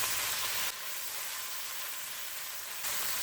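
Saltfish and tomatoes sizzle in a non-stick pot, a continuous broadband frying hiss that shifts level twice.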